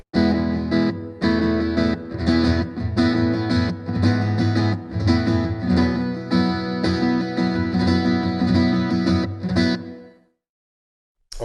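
An electric guitar plays chords and notes through a heavy amp reverb effect, the sound lingering and washing out, then ringing off into near silence near the end.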